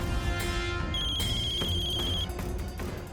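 A telephone rings in a Hindi TV drama scene, a steady electronic ringtone with a sustained high tone running through the middle of the short clip, fairly loud with background music underneath and no talk.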